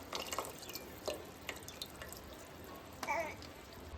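Water poured into fish curry pulp, a faint scatter of small drips and splashes against quiet background, several soft liquid plops spaced across the moment.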